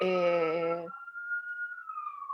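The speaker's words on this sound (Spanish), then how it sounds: "Va pasando una sirena por arriba de mi cabeza" After a short burst of speech, a thin, faint siren wail drifts by overhead as a single steady tone, slowly sliding downward in pitch.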